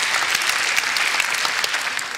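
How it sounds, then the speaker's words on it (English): Scattered, half-hearted clapping from a talk audience, a thin steady patter of hands lasting a couple of seconds without voices. "So thanks for the desultory clap."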